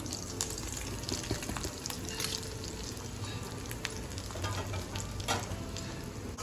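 Ingredients roasting in a pan with crushed roasted peanuts for a Navratri fasting dish, a continuous close sizzle with light scraping of stirring and no talk.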